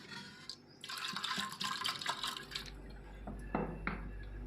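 Water poured into a pressure cooker holding chana dal for a plain vegetarian dal, a steady broadband splashing pour lasting a couple of seconds, followed by a few brief clinks and a low rumbling hum.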